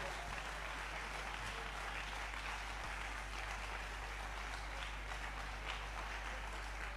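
A church congregation applauding and cheering during a French-language sermon, steady sustained clapping with crowd noise, heard from a distance at low level.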